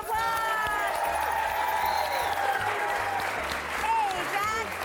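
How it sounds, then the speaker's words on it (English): A studio audience applauds and cheers as wildlife presenter Jack Hanna is welcomed on a TV show, a steady, dense wash of clapping with whoops, while the hosts talk over it throughout. "Let's give him a round of applause!"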